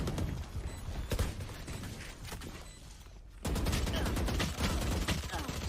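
Rapid gunfire sprayed through smoke in the Valorant shooter game, dense bursts of shots that grow louder and heavier halfway through, mixed with game effects and some faint voice.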